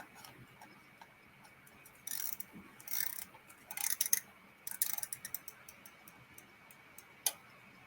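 Faint, steady ticking from a mechanical alarm clock close by, interrupted midway by several louder bursts of ratcheting clicks as the alarm is wound.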